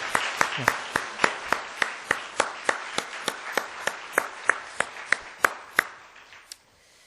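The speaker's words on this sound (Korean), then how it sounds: "우리 격려의 박수 한번 해주시기 바랍니다" Church congregation at a Baptist service clapping in unison: sharp, evenly spaced claps at a quick steady rhythm, roughly eighteen beats, fading out at the end.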